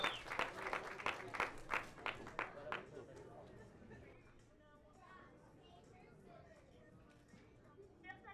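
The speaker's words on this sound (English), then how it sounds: "I need you guys just A big round of applause, ladies and gentlemen." Applause from a crowd at a fight weigh-in: a burst of sharp, loud clapping that fades after a few seconds into a murmuring room with voices talking underneath.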